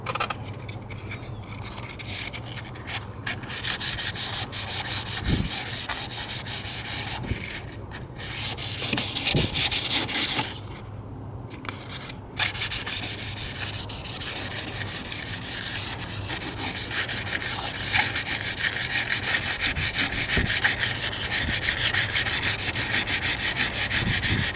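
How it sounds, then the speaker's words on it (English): Worn fiberglass trim being sanded by hand with 800 grit sandpaper: close, steady back-and-forth rubbing strokes that continue almost without a break, with a few short pauses and no talking. "I'm using 800 sandpaper because I don't want to go too rough on it."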